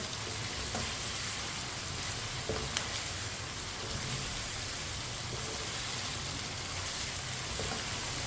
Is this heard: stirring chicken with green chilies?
yes